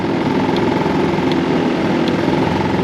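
Early-model Honda Live Dio ZX scooter engine running close up, a steady loud buzzing exhaust drone from the muffler with faint periodic ticks, no voices.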